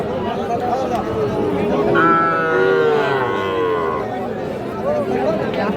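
Cattle at a rural livestock market moo in a long, loud drawn-out call over a steady hubbub of crowd chatter and nearby voices.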